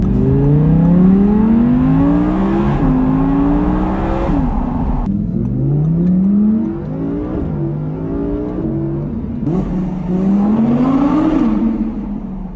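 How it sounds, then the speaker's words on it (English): A loud 2019 Audi R8 Performance V10 engine in track mode revs hard through repeated gear changes, its exhaust note climbing and dropping in rising sweeps, close and continuous. "now I whack it in track mode, the noise is just incredible"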